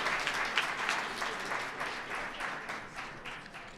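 An audience at a Fair Housing Month kickoff program applauds a performance, a steady wash of clapping from many hands that fades gently over several seconds.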